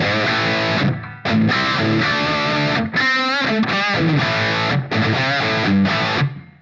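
Crunchy, distorted electric guitar through a POD HD500X amp model, played as loud sustained chords and riffs with brief gaps between phrases and a wash of reverb, no voice.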